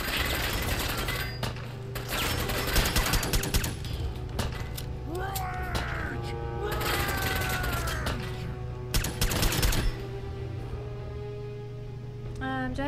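Gunfire in the Fallout 4 game, dense bursts of shots and mechanical clatter over a constant background hum, with a voice talking throughout.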